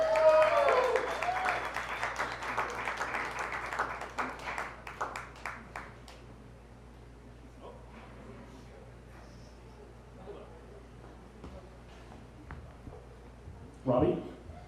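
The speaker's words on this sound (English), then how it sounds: "So give him a big round of applause." Applause from a small crowd at a standup comedy night in the Milk Parlor, greeting a first-time performer; fairly quiet clapping that thins out after a few seconds, followed by scattered sounds and a brief voice.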